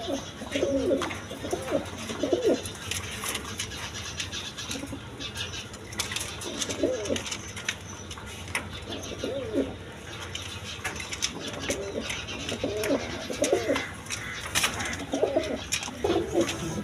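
Lahori pigeons at a busy pigeon market, low cooing calls repeating in short bursts over a constant crowd murmur, with occasional wing flaps and clatter.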